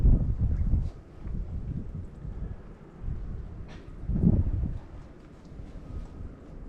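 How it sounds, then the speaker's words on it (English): Wind gusts buffet the microphone during a New Jersey snow blizzard, coming as low, rumbling surges that swell and fade in waves. "Got wind gusts still."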